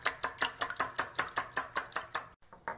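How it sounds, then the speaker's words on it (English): Eggs and sambuca being whisked together for taralli dough, a quick, even train of sharp tapping strokes against the bowl that runs briskly with one short pause near the end, close and alone. "I'm just going to add it in to whisk the egg and the sambuca together"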